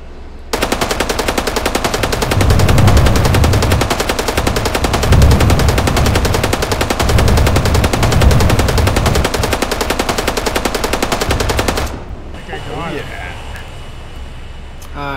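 A long-range anti-aircraft gun in Arma 3 fires a sustained, rapid, very loud burst for around eleven seconds, then cuts off into a quieter rumble while voices talk throughout.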